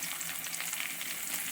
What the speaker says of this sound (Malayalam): ഈ കടുക് പൊട്ടിയ ശേഷം വെളുത്തുള്ളി ചീൻചട്ടിയിലോട്ട് ഇടുന്നു